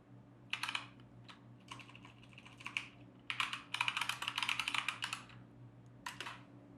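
Bursts of quick clicking keystrokes on a computer keyboard, quiet and close, with pauses between runs of typing and no speech.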